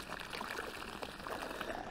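Hot spring water near Kutaisi, Georgia, pouring from a pipe in a steady, hissing rush that stays close and even throughout.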